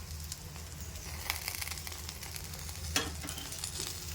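Tindora curry with freshly grated coconut stirred in a pan, a steady low sizzle of frying with scraping stir sounds and a sharper clatter near the end, no talking.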